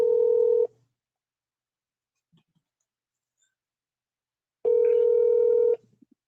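Touch-tone telephone dialing an outgoing call to San Diego, a steady two-tone keypad beep sounding twice with a long silent gap between, close and clear with no talk.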